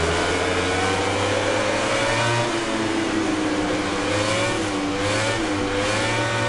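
Racing motorcycle engine in the MotoGP 19 video game, a loud continuous drone whose pitch wavers gently up and down as the bike accelerates, steady and close throughout with no talking.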